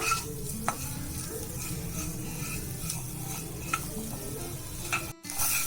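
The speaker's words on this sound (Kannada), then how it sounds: "ಮೀಡಿಯಂ ಫ್ಲೇಮಲ್ಲೇ ಫ್ರೈ ಮಾಡ್ಕೋಬೇಕು." Egg curry ingredients fry in a pan over a medium flame, giving a soft steady sizzle under repeated scraping stirs and light clinks of a spoon against the pan, close and fairly quiet, with a brief cut near the end.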